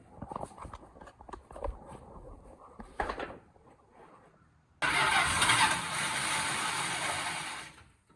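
A 1979 Dodge D100 pickup that sat for ten years is cranked over: uneven starter churning and clunks, a pause, then the engine catches and roars into a loud rough idle before fading.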